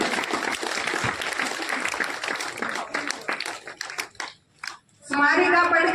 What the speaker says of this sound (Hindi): बच्चों तालियां बजती रहनी चाहिए,